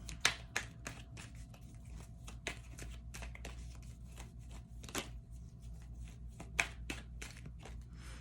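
A tarot deck is shuffled and cut by hand, giving a series of close, crisp card snaps and riffles spaced irregularly over a low steady hum, with no talking.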